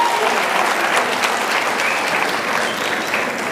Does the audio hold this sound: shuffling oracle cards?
no